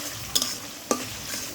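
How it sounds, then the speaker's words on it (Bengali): Chopped onions and ginger frying in a pan crackle in a low, steady sizzle, broken by two quick, crisp stirring scrapes close by. "পেঁয়াজটা আদা ভাজি হয়েছে"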